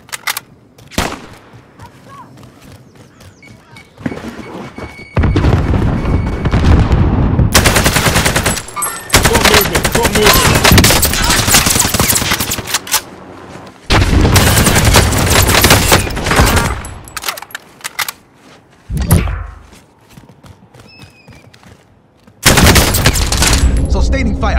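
Sustained automatic gunfire in the video game Call of Duty: Warzone on Rebirth Island, loud bursts lasting several seconds each separated by short quieter pauses.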